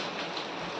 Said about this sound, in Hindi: बारिश हो रही है, बरसात हो रही है